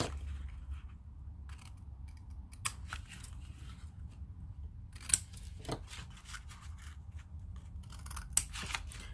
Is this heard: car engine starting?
no